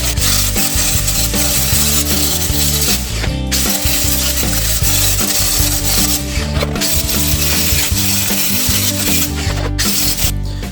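Rust being ground from the steel seat pan of a 1972 Honda CB175 barn find down to bare metal; a loud, continuous abrasive rasping runs unbroken for the whole stretch, with a few brief dips.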